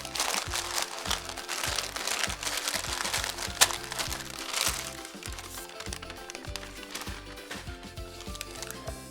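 Cinnamon Toast Crunch s'mores bar mixture gets pressed down into a pan, producing dense, close crinkling and crunching of cereal with repeated soft pressing thuds and one sharp crack midway.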